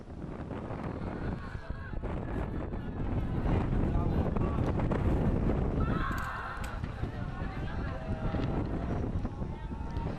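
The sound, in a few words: tornado wind in an amateur video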